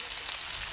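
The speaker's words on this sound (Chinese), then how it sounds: "放入姜蒜，配料炒香" Ginger and garlic stir-frying in hot oil in a wok, a steady bright sizzle with crackling spatter throughout a short moment, close and fairly loud, no voices.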